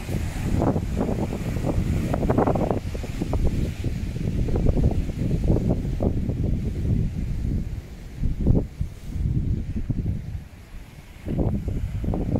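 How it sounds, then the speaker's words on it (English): Ocean waves and wind at a seaside holiday park on Donniford Bay near Minehead, a steady loud rush of surf and gusting wind buffeting the microphone throughout, with no talk. "the ocean"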